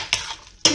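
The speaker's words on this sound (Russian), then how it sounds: "Все, высыпаем изюмчик. Перемешиваем." A spoon knocks twice against a bowl while raisins are stirred into Easter kulich dough, two short close clinks.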